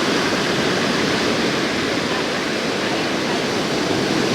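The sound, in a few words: ocean waves breaking on the beach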